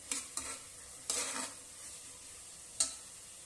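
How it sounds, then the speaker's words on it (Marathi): Spices and coriander powder fry in oil for a vegetable pulao while a spoon stirs them, giving a few brief scraping strokes over a soft, steady sizzle, close but quiet, with no talking. "आता त्याच्यामध्ये आपण धना पावडर टाकूया थोडीशी, एक चमचा टाकायचा छोटा, परत परतून घ्यायचंय"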